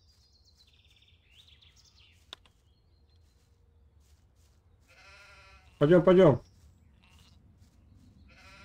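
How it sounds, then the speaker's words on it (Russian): A sheep bleats in Gothic II, one loud, close, wavering bleat that stands out against quiet ambient birdsong, with someone speaking briefly nearby. "Овечку можно вот эту овцу привезти"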